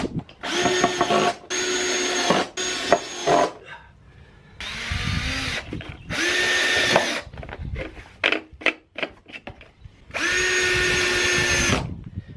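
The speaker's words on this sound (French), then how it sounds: "il me reste quand même une centaine de vis à passer" A cordless drill-driver sinks screws into wooden joists during a deck build, in repeated bursts of a few seconds each, whining up and stopping sharply, with quieter handling clatter between runs and no talk.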